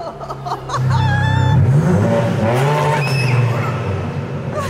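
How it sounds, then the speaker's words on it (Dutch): A sports car in Dubai revs hard up close, its loud engine climbing and falling through several throttle blips with a sustained growling roar and some tire-like squeal, no talking over it. "moeten we natuurlijk even het geluid laten horen van deze auto"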